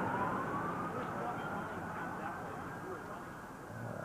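Emergency vehicle sirens wail faintly in the distance around the base of the burning North Tower on September 11, with a thin rising tone over a dense wash of street and crowd noise.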